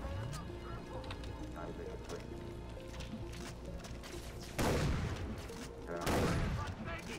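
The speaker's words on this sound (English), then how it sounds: "The shotgun is nice though" A shotgun in the video game Far Cry 3: Blood Dragon fires two loud, booming blasts a little over a second apart, each ringing out over busy game noise and someone talking.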